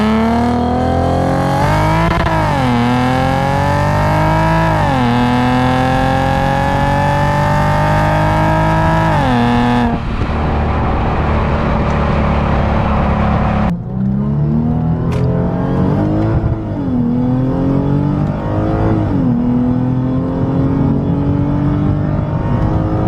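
A Lexus IS350 fitted with an FBO exhaust pulls hard with rising revs, drops back on a downshift into first, then climbs again. The exhaust note is loud and close throughout, with no talking.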